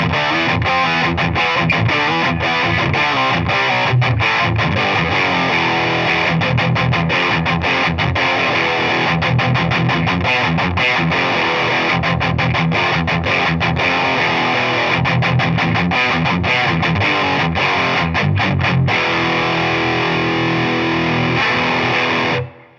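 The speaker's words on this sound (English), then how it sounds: "Let's plug in the Phenom Distortion and see how that works out." Electric guitar played through a Wampler Phenom Distortion pedal from the Wampler Collective line, a thick, saturated distorted tone with chugging, rhythmic riffs that run loud and continuous for over twenty seconds before cutting off, no voices.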